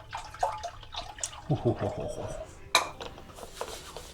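A metal saucepan is handled in a kitchen while a screwdriver takes the screw out of its handle, giving scattered close clanks, taps and scrapes, with a sharper metallic knock partway through.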